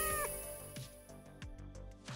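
Short cat meows from the video game Thief Simulator 2, several brief calls spaced through the clip over a busy background of game sound and music.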